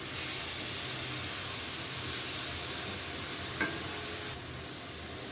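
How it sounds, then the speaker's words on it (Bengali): Grass pea greens fry in a pan while being stirred, a soft continuous sizzle and hiss with one sharp clink of a utensil partway through, then the sizzle drops lower. "এখন খুব ভালো করে নেড়ে চেড়ে নামিয়ে নিব।"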